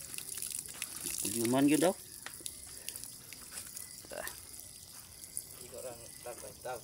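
Water runs steadily from a repaired water pipe as a continuous hiss beneath the whole clip. People talk over it, with one louder voice early on.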